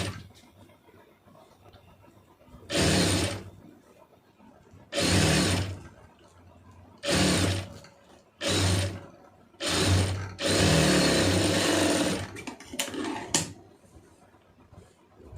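A sewing machine stitches a saree-border puff sleeve in several short, loud motor bursts, close up, with quiet pauses between runs and one longer stretch near the end.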